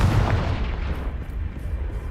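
A Confringo spell blast in Hogwarts Legacy: one loud booming burst at the start that decays into a rumbling tail over the next two seconds, no speech.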